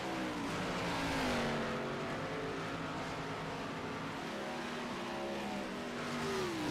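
Race cars in a racing video game passing on the Watkins Glen track, several engines droning and revving together in a steady, loud, continuous roar.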